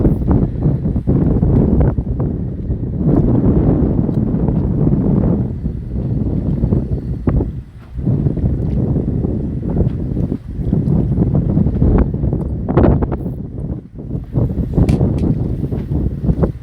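Strong gale buffeting a fishing boat at sea off Yeosu during autumn hairtail lure fishing, a loud steady roar with gusting microphone buffets and hull and water rumble throughout, no talk.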